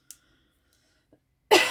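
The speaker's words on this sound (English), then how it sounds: "I'm sorry about my coughing." A woman coughs once sharply at the end after a long quiet stretch with a faint earlier tick, the cough close and loud, from a dry throat.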